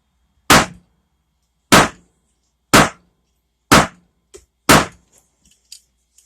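A loaded rifle cartridge with an uncrimped bullet, held only by neck tension, is struck five times in a steady rhythm about a second apart. The sharp, loud, close knocks are followed by a few faint taps.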